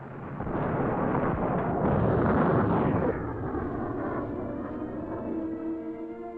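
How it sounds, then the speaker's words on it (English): A rocket explodes during an Apollo launch escape system abort test, heard as a loud, sustained roaring rumble that peaks midway and then fades into a lower, fluttering drone with no voices. "abort tests in which the launch escape system pulled the capsule from an exploding rocket"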